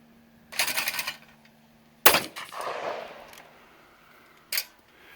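Shotgun blasts ring out while busting clays with an economy shotgun: a loud sharp report followed by a long rolling echo, with a couple of shorter cracks on either side, outdoors and no speech.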